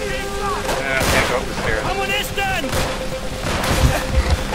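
Gunfire rattles through a Call of Duty: World at War co-op match, bursts of shots and booming hits mixed with game music while a player talks over the action.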